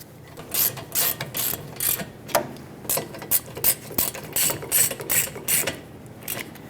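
A ratchet threads the rear brake caliper bolts on a 2019-2024 Subaru Forester, with a rapid series of sharp, close clicking bursts in an irregular rhythm and no talk.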